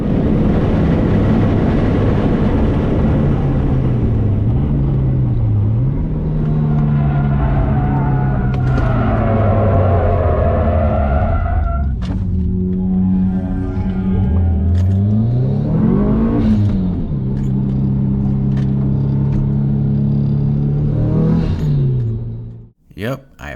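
Car on Enkei RPF1 wheels and Toyo R888R tires driven hard on a race track, engine note rising and falling through shifts for about twenty seconds, then a brief scrub and cut-off as it loses control; talking over the top.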